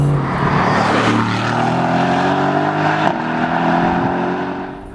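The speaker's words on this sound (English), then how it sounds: "There's nothing refined about the sound of the F-Type's engine." A loud, throaty 2016 Jaguar F-Type R V8 engine revs hard with a rising, rasping harmonic tone, sustained for several seconds before easing off slightly at the end.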